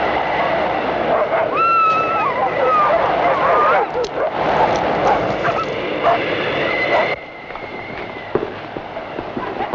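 Several dogs bark and yip excitedly in a 1960s TV drama scene, sharp repeated barks mixed with whimpers over a busy background, moderately close.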